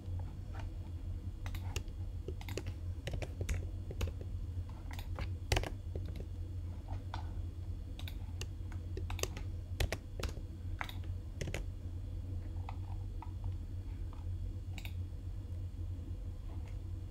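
Steady typing on a computer keyboard, a quiet run of irregular, close key clicks with brief pauses, alone over a low background hum.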